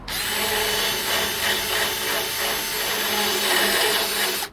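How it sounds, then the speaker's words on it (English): A steady, high-pitched whine of a die grinder in a drill grinding metal, continuous and close, with slight shifts in pitch as it bites. "Just a die grinder in a drill."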